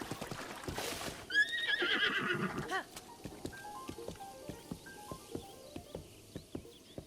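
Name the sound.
wild horses neighing in a Zelda Hyrule video game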